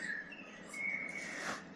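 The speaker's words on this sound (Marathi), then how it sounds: "या बाजूनं काही पक्ष्यांचा आवाज येतोय" Birds call at a lake in Pench Tiger Reserve, a thin whistled note and faint chirps drifting from a distance over quiet outdoor background.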